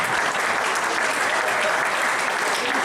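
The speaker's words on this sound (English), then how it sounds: "I recognize pity applause." Audience applause fills a sports hall of fame induction ceremony, a dense steady wash of many hands clapping at close range for the full stretch, with no break.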